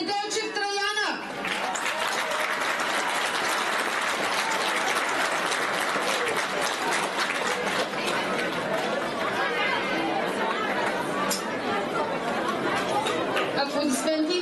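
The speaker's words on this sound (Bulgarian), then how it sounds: "Аплодисменти." Applause and crowd chatter at a youth football tournament award ceremony in Stara Zagora, a steady loud wash of clapping and voices filling a hall, with an announcer speaking briefly at the start.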